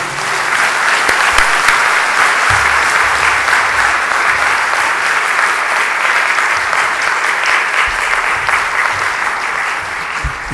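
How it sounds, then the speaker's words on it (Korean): A church congregation at a Sunday evening service applauds a newly ordained pastor, with steady, full clapping that runs loud and unbroken for about ten seconds and has no voices over it. "축하드리는 마음으로 박수 한번 드리겠습니다"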